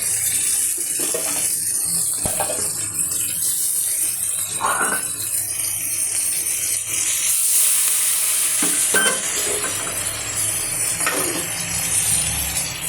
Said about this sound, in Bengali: এই যে হচ্ছে চিংড়ি মাছ সুন্দর করে কষিয়ে নিচ্ছি